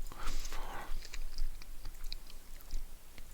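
Close chewing of crunchy, undercooked potatoes: a run of moist crunching and biting bursts over about three seconds, with no speech.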